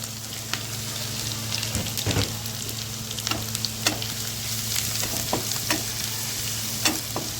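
Green chilli, garlic and ginger sizzle steadily in hot oil for babycorn Manchurian, with sharp spatula scrapes and clinks breaking through the constant frying hiss.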